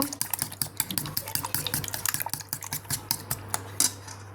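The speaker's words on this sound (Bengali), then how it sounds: "যে ডিমগুলো আমি এখন ফেটিয়ে নেব।" Eggs being beaten by hand in a bowl for coating pumpkin flowers before frying, a rapid run of light clicking whisk or fork strikes, close and fairly steady, with no talking.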